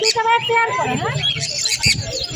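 Green-cheeked conure chirping amid a busy bird market, bright shrill calls and trills over constant crowd chatter and nearby voices talking throughout.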